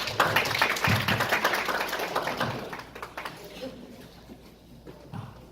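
Audience at a youth community event applauding, a burst of clapping that is loudest at the start and gradually thins and fades, with faint voices underneath.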